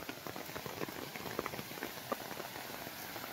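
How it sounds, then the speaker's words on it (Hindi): Swollen, muddy drain stream rushing fast beside a cottage in Nainital after heavy rain, a steady dense roar of churning water with no voices. "इसके बगल में देखिए नाला कितनी तेजी से बह रहा है"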